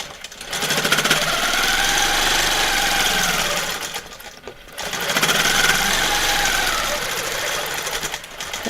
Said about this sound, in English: backtracking is getting from one point of the design to another by stitching on top